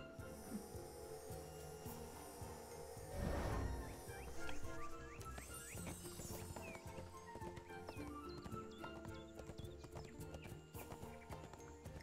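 Rhythmic hoof clip-clop of a horse being ridden in the online game ArcheAge, moderately close and steady over game music, with a brief louder thump midway.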